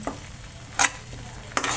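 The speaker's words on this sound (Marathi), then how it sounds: "आपली ग्रेव्ही भाजून भाजून घ्यायची चालली आहे" Soft sizzling of palak paneer gravy frying in a pan with two brief scraping stirs of a spoon, close by, no voices.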